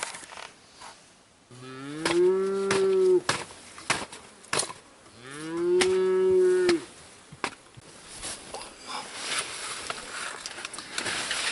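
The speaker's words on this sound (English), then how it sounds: "have had about enough of these cows" Cattle on open range give two long, loud, drawn-out moos close by, each lasting a couple of seconds, followed by quieter rustling and faint background noise.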